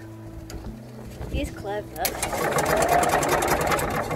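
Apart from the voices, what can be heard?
engine turning over after shorting starter relay terminals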